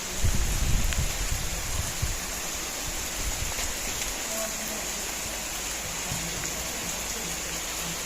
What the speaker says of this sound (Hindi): एंजॉय कर रही है आज बारिश को मुकद्दस